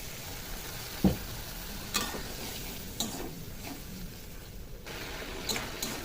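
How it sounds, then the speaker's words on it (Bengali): Ginger-garlic masala with chopped tomato frying in a pan after a splash of water, a soft steady sizzle with a few louder stirring scrapes of the spoon. "দিয়ে এটাকে ভালো করে কষিয়ে নেবো মশলাটাকে দিয়ে দেবো সামান্য একটু জল"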